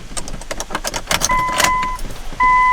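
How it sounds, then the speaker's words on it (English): Keys jingle close by inside the cab of a 2nd gen 24 valve Cummins diesel truck, followed by warning chimes as the ignition comes on and a steady tone holds to the end. "turn the truck on"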